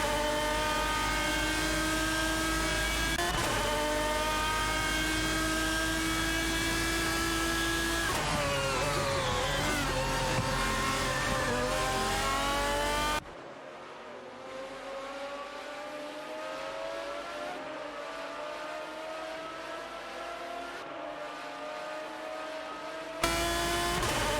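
Several race cars in a video game, among them an Aston Martin DBR9 and a Lamborghini Murcielago RGT, roar past in close succession, with engines rising and falling through gear changes and an abrupt cut to a quieter, more distant engine drone partway through.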